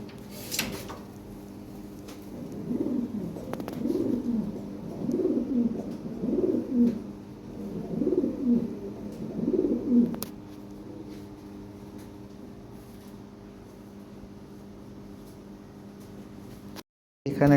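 Lahore pigeons kept for sale coo in a series of soft, rolling, repeated calls, fairly close, with a quiet background and no talk.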